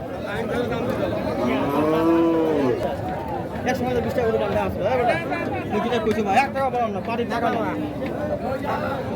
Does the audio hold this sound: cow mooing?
yes